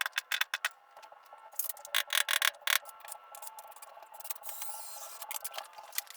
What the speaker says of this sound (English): I'm just going to pull the pin at this point.